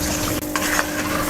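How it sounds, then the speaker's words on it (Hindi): Spices such as ground coriander, salt and turmeric being stirred into potato slices in a pan, a soft continuous scraping and light sizzle, brief and close. "ऐड करने के बाद इसे हल्का सा मिक्स करेंगे।"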